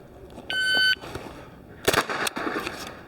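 CZ Scorpion Evo 3 S1 .22 LR carbine on a range: a brief electronic timer beep, then a quick string of sharp, loud shots close by, with no talk.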